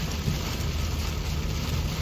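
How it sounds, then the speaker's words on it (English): Heavy rain while driving a 7.3 gas Ford Super Duty truck on Falken A/T4W tires, a dense continuous wash of rain and road noise, steady and close throughout. "I wanted to make a video about driving in the rain on these tires"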